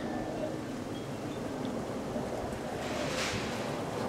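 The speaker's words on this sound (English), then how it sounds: "It's windy." Steady wind roars and buffets across the microphone in Brisbane, a continuous broad rushing with a faint surf-like wash underneath.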